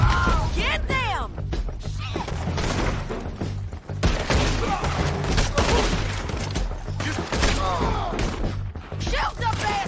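A shootout in Red Dead Redemption 2, with continuous loud gunfire of overlapping shots and heavy thuds, as voices shout over the battle.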